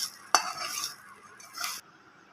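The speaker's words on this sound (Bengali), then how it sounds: "আমি আর ঢাকা দিইনি, এইভাবেই নেড়ে নেড়ে রসটা শুকিয়ে নেব।" Chicken being stirred in a pan on the stove while its liquid cooks off, with a sharp clink of a utensil against the pan, then soft scraping and a brief hiss, close and with no voices.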